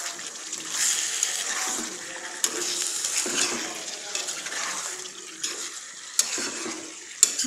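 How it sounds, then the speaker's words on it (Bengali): Broiler chicken and potatoes stir-fry in a pan with a crackling sizzle, while a utensil scrapes and clinks against the metal in irregular strokes, close and moderately loud. "ভালোভাবে মাংসটা আর আলুটা কষিয়ে নিতে হবে।"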